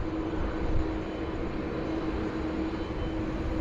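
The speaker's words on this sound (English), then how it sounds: "Manila bound Qantas 19 ready to rock and roll." A Manila-bound Qantas 19 airliner departing Sydney Airport in heavy rain and wind gives a steady, distant, rumbling jet roar with a sustained engine tone, and no one speaks.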